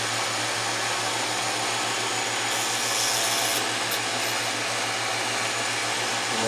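A pantograph makes a roughing cut in ivory, a steady motor drone with a low hum and a faint grinding hiss over it, continuous and close.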